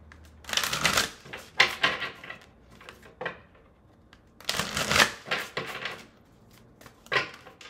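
Oracle cards being shuffled by hand in uneven bursts of crisp riffling and slapping, with short pauses between the bursts, close and fairly loud, with no talking.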